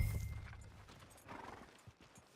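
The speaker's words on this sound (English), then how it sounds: "Are you gonna mount that new horse of yours or not?" A horse in the video game Red Dead Redemption 2 whinnies, then its hooves clip-clop in a rough rhythm over a low rumbling background, moderately close and fairly quiet.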